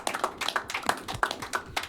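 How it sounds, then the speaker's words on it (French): A small group applauds at a young people's oral presentation event, a brief patter of hand claps in uneven bursts, fairly close. "Nous applaudissons les autres"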